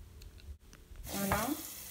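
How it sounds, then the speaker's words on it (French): Pasta with pitted black olives cut into small pieces being stirred in a frying pan, a soft scraping and gentle sizzle that swells to a louder, steady stir partway through. "On rajoute les olives noires dénoyautées et coupées en petits morceaux. On continue de remuer."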